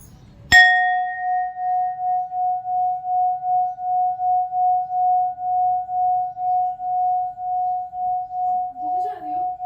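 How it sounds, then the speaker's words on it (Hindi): A musical singing bowl is struck once and then rings a long, steady pure tone. The tone pulses in slow, even waves of vibration for about nine seconds, and a voice comes in faintly near the end. "पूरा वाइब्रेट होता है, जैसे शंख से वाइब्रेशन होती है ना, वैसे इस म्यूजिकल बोल से वाइब्रेशन होती है"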